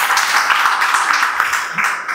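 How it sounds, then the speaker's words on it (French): An audience applauding at a youth employability panel talk, a dense, steady wash of clapping that fills the whole moment, fairly close and loud. "on peut applaudir"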